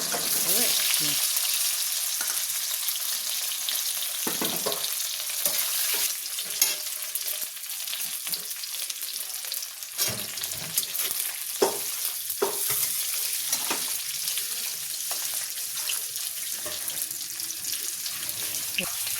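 Boiled potatoes frying and being stirred in a pan for a Bengali Sunday lunch; steady close sizzling runs throughout, with frequent scraping stirs and clatter.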